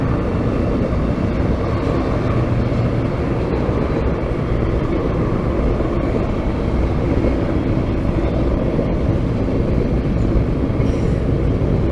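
A train rumbles past in a steady, loud, continuous roar of wheels and engine with no breaks, close by for the whole stretch.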